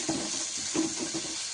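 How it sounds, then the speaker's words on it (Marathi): Onion and tomato sautéing in a pan with a steady close sizzle, broken by a few soft stirring scrapes. "टोमॅटो सुद्धा छान परतून घ्यायचे"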